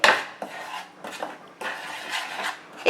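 Spoon scraping and clinking against a bowl while salt, sugar and spices are stirred together for a Bengali fritter batter, a run of close rhythmic rubbing strokes with brief pauses and no talk.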